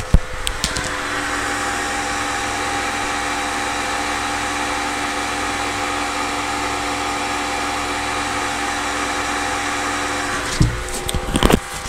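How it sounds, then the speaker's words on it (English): An Ankermake M5 or Bambu P1P 3D printer idles, humming and whirring steadily with a fan-like drone for most of the clip, followed by a few clicks near the end. "we're just going to listen to the sound of the printer while it's idling"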